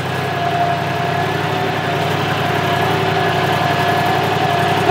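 A John Deere tractor engine runs steadily at close range, a loud, continuous low diesel drone with a constant vibrating rumble and no change in pace.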